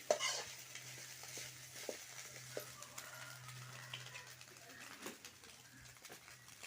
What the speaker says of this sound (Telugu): అడుగు నుంచి ఇలా తిప్పుతూనే ఉండాలి లేదంటే కింద వైపు ఉండే గుడ్డంతా మాడిపోతుంది